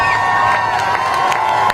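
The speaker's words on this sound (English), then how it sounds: "Crowds of protesters and supporters stood for hours to see former President Donald" A crowd of protesters and supporters gathered in New Orleans for former President Donald Trump's visit cheers and shouts steadily throughout, a dense, loud wash of voices with scattered whoops and claps.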